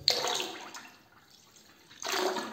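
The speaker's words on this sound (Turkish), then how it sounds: "Şimdi yaklaşık bir çay bardağı kadar da içerisine dökeceğim." Toilet cleaner is poured into a toilet bowl, giving two splashing bursts of liquid with a quieter trickle between them, close by and without talk.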